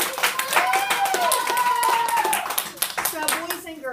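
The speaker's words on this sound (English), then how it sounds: "So let's give him a big round of applause." Schoolchildren clapping in a school setting, brisk and uneven, with a voice speaking over the claps through most of the stretch.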